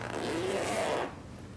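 A zipper on a travel pouch is pulled in one quick close rasping stroke lasting about a second, then stops.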